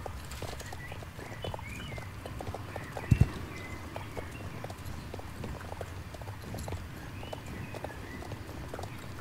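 Horse hooves clip-clop at a steady walking rhythm while riding through a green valley town in the video game Star Stable, even and moderately close, with one brief louder thump partway through.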